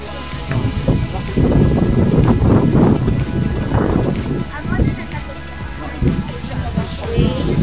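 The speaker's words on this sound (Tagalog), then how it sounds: "Hala, kusog yun kaya ang hangin." Strong wind buffets the microphone in loud, rumbling gusts, with faint voices and movement underneath.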